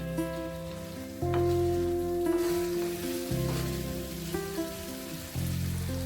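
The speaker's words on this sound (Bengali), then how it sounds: "গ্যাসের ফ্লেমটা হাই রেখে আমি পাঁচ মিনিট মাংসটাকে খুব ভালো করে কষিয়ে নেব" Chicken meat sizzles loudly in a pan over a high gas flame while being braised, a dense continuous crackle with steady hiss and occasional stirring shifts.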